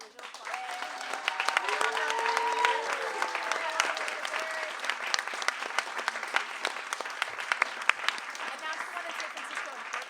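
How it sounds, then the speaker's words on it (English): Audience applause fills a book event for a trans magazine, steady and fairly near, with voices and cheering mixed into the clapping throughout. "Can we clap for original"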